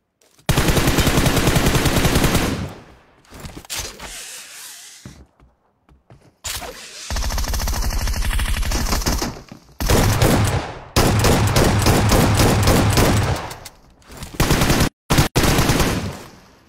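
S12K shotgun in a video game blasting in long rapid bursts, loud and close, with several sustained volleys separated by brief gaps and no talking.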